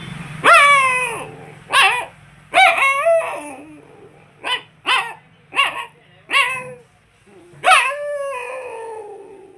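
A man imitates a dog with a voice, giving a run of about nine separate loud barks and howls with short pauses between them, close and clear with little background.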